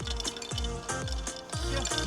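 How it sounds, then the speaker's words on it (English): Water pouring into a glass with rising, gurgling glugs, while ice clinks faintly against the sides in a holiday house setting. The pour is close and steady for a couple of seconds. "I see I must refill your water glass."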